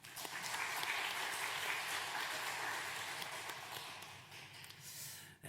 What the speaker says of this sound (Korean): 우리 마리아 중창단 또 주일 경배 찬양팀 축복하고 격려하는 박수 하도록